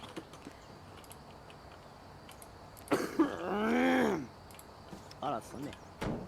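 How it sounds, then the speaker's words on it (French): An old man clears his throat in the Grocery Store Simulator video game, a single rough, drawn-out voiced rasp lasting about a second, with quieter shorter throaty bursts after it over a faint background. "Un grand-père qui se racle la gorge."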